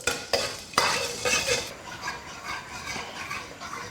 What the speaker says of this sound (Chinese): 锅里来点油，炒一个糖色